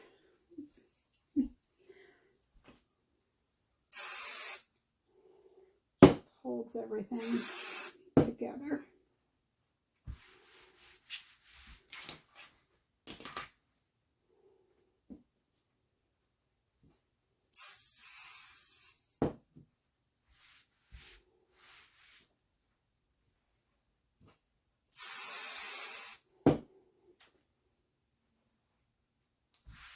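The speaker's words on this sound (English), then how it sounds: "I'm going to use some spray basting to save myself pinning" An aerosol can of spray basting adhesive hisses in several short bursts, separated by quiet pauses, handling noises and a brief spoken remark.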